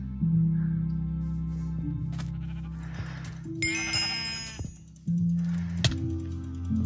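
Sheep in a Minecraft match bleat several times in short wavering calls, clear and close, with game sound effects including a bright clattering burst and a low background hum.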